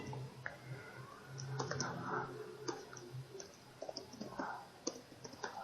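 Fingers type C code on a computer keyboard, a quiet, irregular patter of close key clicks in short bursts and pauses, with faint room noise and no voices.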